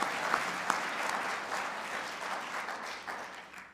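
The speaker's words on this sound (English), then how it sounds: "You can clap, you can clap." A church congregation claps during a Sunday morning service as assistant ministers are introduced, a steady, moderately distant patter of many hands that continues throughout, with no talking.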